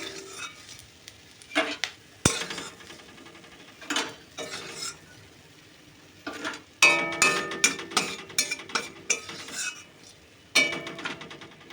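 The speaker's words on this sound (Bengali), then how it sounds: "মাছগুলোও ভাজা হয়ে এসেছে এবার নামিয়ে নিই" Fish frying in a pan with intermittent clatter and scraping of utensils against cookware, bursts of activity between quieter stretches of low sizzling.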